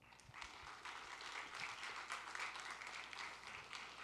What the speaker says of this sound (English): So please give all the debaters for the season a round of applause.